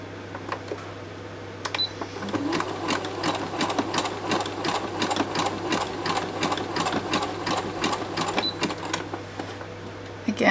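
A sewing machine runs a zigzag edging stitch on hessian coasters, giving a steady, close mechanical chatter of rapid regular needle strokes that lasts several seconds with slight pace changes.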